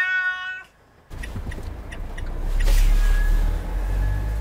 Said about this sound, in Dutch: Ja, een hele lieve poes.